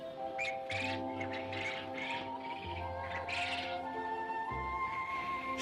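Water birds chirp and call in scattered bursts over a steady background hum at a migratory bird wetland reserve, the calls moderately close and overlapping like a loose flock.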